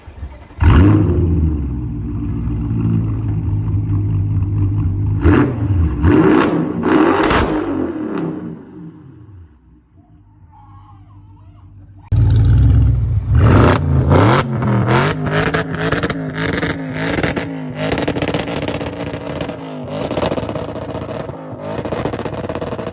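Audi 4.0-litre twin-turbo V8 revving hard in repeated bursts, loud and close, with a short quieter gap midway before another run of aggressive throttle blips and rising pulls.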